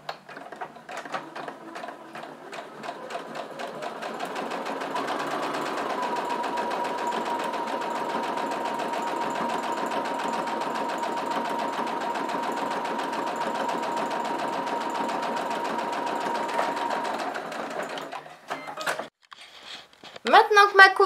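A sewing machine stitches fabric in one long, steady whirring run that ramps up, holds for about twelve seconds, then stops, followed by brief handling noises.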